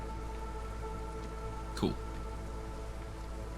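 Steady, soft rainfall from the video game Against the Storm hisses evenly throughout, with one quick sweeping effect midway and a voice speaking a single short word.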